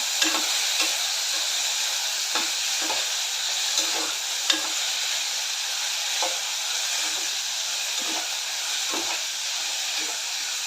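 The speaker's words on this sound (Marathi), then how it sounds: "स्वीटकॉर्न गाजर सर्व चांगले सॉफ्ट होईपर्यंत सर्व साहित्य सॉफ्ट होईपर्यंत आपण भाजून घ्यायचं आहे" Sweetcorn, carrot, green peas and garlic roasting in a pan, a loud steady hiss of frying with spatula scrapes every second or so, no speech.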